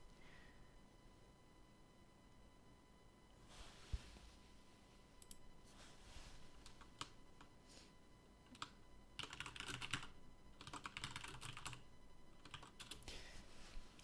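Computer keyboard typing during a Duel Masters trading card game tournament stream, quiet scattered keystrokes early on building into dense, rapid clattering bursts near the end, close and alone with no talk.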